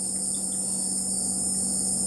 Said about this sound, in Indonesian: Banyak-banyak suara-suara kodok.